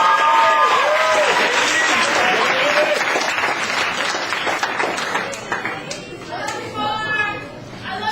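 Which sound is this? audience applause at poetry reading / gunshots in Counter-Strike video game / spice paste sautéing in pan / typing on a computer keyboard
audience applause at poetry reading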